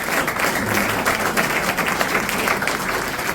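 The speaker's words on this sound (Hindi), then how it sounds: "जोरदार ताली के बीच स्वागत होता हुआ" Sustained loud applause from a big rally crowd at a Jan Suraaj Yuva Sangharsh Yatra welcome, with thick, even clapping that carries on without a break for the whole stretch.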